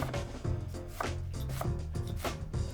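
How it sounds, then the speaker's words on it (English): A knife chops onion on a cutting board in rapid repeated strokes, close and fairly loud, with a steady rhythm of sharp impacts. "Now, let's chop it up."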